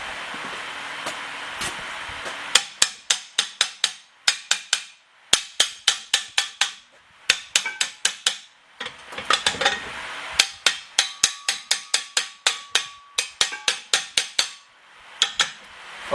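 Sharp metal hammer strikes ring out on a shop-built puller used to pull a Rockford PTO clutch apart, coming in quick bursts of several blows separated by short pauses, close and loud with no talking.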